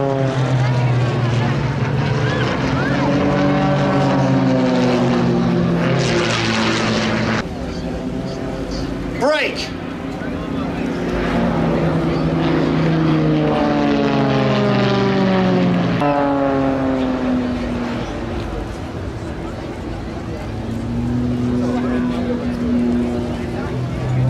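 Propeller aerobatic aircraft of the Global Stars team perform rolls and tumbles at the Scottish International Airshow, engines droning loudly and shifting pitch as they climb and dive, with one sharp burst midway and public-address commentary running over them.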